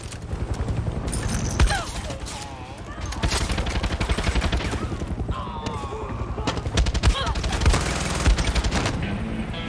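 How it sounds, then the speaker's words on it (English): Rapid machine gun fire from a Far Cry 6 firefight rattles in loud, dense bursts with heavy booms, while a voice talks over the shooting. "I may not have explosives, but you're sure gonna die with this gun."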